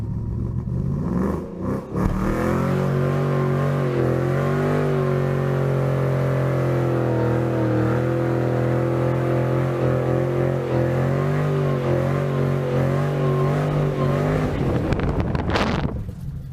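A manual car held on the brake after the clutch is sidestepped for a burnout, its engine droning at high, wavering revs for over ten seconds before cutting off, with wind buffeting the microphone.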